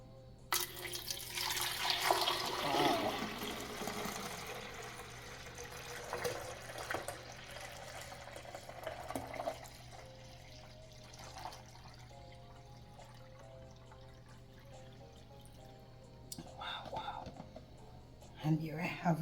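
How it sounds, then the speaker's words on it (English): Homemade Jamaican sorrel drink with pineapple and fever grass splashes and trickles as it is poured into a container, loudest at first and then thinning to quieter dribbles, with soft voices around it. "let me pour it in this container."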